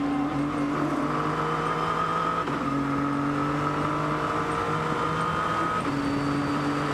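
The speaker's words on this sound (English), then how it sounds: "It's not pulling its revs quickly in that top gear." A race car engine drones in top gear, its steady tone climbing only slowly with brief dips at shifts, heard at a moderate distance with no voices.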